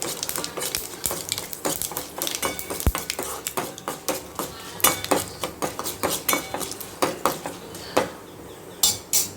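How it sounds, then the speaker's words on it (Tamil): Mustard seeds splutter in hot oil in a pan, giving a dense run of sharp, close crackling pops at an uneven rhythm, with no voices. "நல்லா கடுகு வந்து நல்லா பொரியணும் இன்னும் இப்போ பொரியட்டும்"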